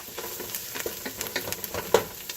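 Onions frying in a pan during spaghetti preparation: a steady close sizzle broken by irregular scraping clicks of a spoon stirring, with no talking.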